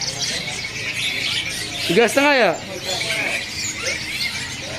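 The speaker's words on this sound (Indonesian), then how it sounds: "Ini cicak hijau mininya udah rawatan nih, udah bunyi juga." Mini green leafbird (cicak hijau) singing from a cage at a bird market, a brief clear burst of rising and falling whistled notes in the middle, surrounded by busy chatter and other background bird calls.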